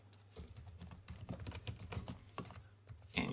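Typing on a computer keyboard while entering an email address during a WordPress signup, a close, quiet run of quick irregular key clicks with a louder tap at the end.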